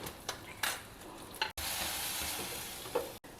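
Whole spices and aromatics for a South Indian tempering, cumin seeds, chana dal, asafoetida, chopped ginger and green chilies, sizzle loudly in hot oil, a steady bright crackle broken by a few stirs and brief gaps.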